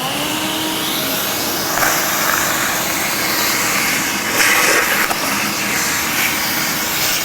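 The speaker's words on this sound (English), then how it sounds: "Just do a quick little vacuum." A vacuum cleaner whirs steadily while cleaning out the blower case of an Acura Vigor during a blower motor replacement. The hum is loud and continuous, with slight rises in pitch as the nozzle moves, and no speech.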